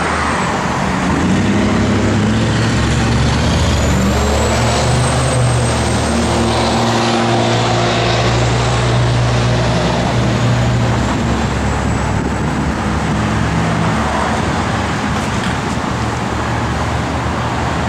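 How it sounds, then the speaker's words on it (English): A healthy 1969 Chevrolet Camaro SS big-block V8 runs steadily at close range, with a loud, continuous low rumble and idle throb. No one speaks. "It's got a good sound to it too. Healthy big block."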